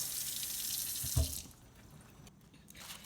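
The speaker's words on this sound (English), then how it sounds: "And you rinse it off again, because they already come clean, but you rinse it off again." A kitchen tap pours water while food is rinsed under it. The stream is loud and hissing for about a second and a half, then drops to a quieter trickle.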